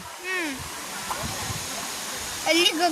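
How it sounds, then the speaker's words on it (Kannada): Abbi Falls near Sakleshpur roars as a constant rushing wash of falling water under people talking nearby, with voices rising over the steady background flow. "ಸಕಲೇಶ್ಪುರ ಹನ್ಬೆಡ್ ಹತ್ರ ಇರೋ ಅಬ್ಬಿ ಫಾಲ್ಸ್ಗೆ ಬಂದಿದ್ದೀವಿ"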